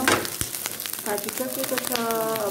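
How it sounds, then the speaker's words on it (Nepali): Food sizzles and crackles in a hot pan, with sharp popping bursts over a steady frying hiss, close and fairly loud while a person talks over it. "पटक पटक पटक पड्किँदैछ"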